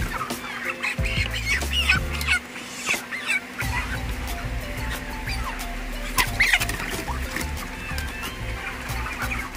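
A dense crowd of chickens clucking and squealing continuously over a steady low mechanical hum, busy and close throughout.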